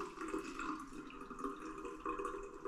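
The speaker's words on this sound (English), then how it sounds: "you can just run them out under some cool water, like so" Frozen tomatoes held under a steady stream of cool tap water, a continuous close splashing and trickling that stays even for the whole stretch with no talk.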